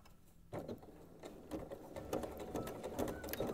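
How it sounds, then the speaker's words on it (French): Home sewing machine stitching a short seam to fix a corner on a fabric protective face mask, a rapid mechanical needle patter running steadily and faintly close by, with no talk. "nous allons coudre une petite couture juste là pour fixer cette petite jolie angle."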